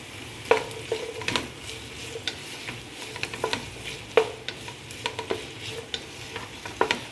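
Sliced onion sautéing in a pan with curry leaves, a soft steady sizzle broken by repeated sharp clicks and scrapes of a spoon against the pan, close and fairly quiet, with no voices.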